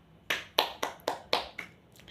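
Scattered claps in a grade 8 Indonesian-language classroom, about six sharp separate hits spaced unevenly over two seconds, fairly close and moderately loud with no talking.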